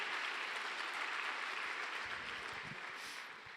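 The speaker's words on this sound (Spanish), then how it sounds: "¿Tienen ganas de aplaudir? Aplaudan." Church congregation applauding during a sermon, a sustained even wash of many hands clapping, moderately distant and fading slightly toward the end.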